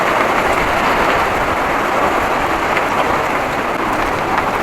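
Heavy rain pours steadily over a village yard, a dense, continuous hiss with a low rumble underneath, loud and close throughout with no voices.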